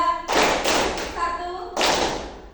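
A group of madrasah students claps in a counted focus game, a few loud unison claps spaced irregularly apart, close by, with an adult voice speaking between the claps.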